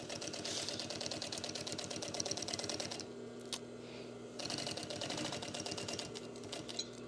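Sewing machine stitching waterproof laminated fabric for a roll-top dry bag, a fast steady rattling run that stops briefly midway and then resumes, close and continuous with no talking.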